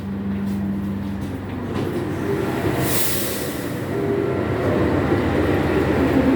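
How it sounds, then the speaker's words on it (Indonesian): The Ranggajati train, hauled by a CC206 locomotive from Cirebon to Jember, sits at Surabaya Gubeng station, giving a loud steady rumble and hum that slowly swells, with no voices. "di jalur 6 sudah ada kereta api Ranggajati dari Cirebon tujuan akhir Jember"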